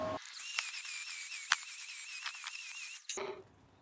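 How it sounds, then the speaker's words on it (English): Angle grinder grinding down a thick weld bead on the front beam of a 1967 VW Type 3 Squareback, a continuous high-pitched whine and metallic hiss with sharp sparkling bursts, close and loud, stopping abruptly near the end. "I just laid it down super thick and I'm just gonna grind it off again"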